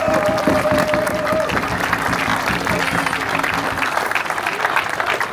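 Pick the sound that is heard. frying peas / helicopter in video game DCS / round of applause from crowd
round of applause from crowd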